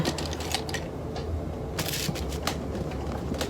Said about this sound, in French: je gomme à côté parce qu'il y a des saletés là